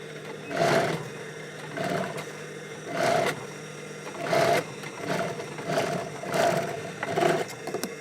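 A sewing machine stitches a dot com style bag in repeated short bursts, running a second or so, pausing, then starting again, fairly close and with no talking.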